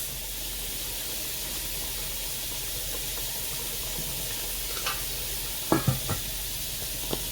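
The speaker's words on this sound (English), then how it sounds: "it's at a nice simmer" Food simmering low under a lid in a pan, a quiet, even bubbling hiss running throughout, with a few soft clinks and knocks near the end.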